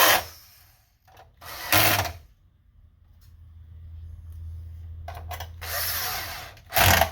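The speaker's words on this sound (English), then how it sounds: "Now that it's held up, we can go ahead and screw all those in." Electric screwdriver driving screws into a PS5 console during a power supply swap, heard as several short whirring bursts separated by pauses, fairly close.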